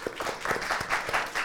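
Audience claps after a political debate contest, a short burst of scattered applause from a modest crowd, fairly faint and roomy, with distinct individual claps audible.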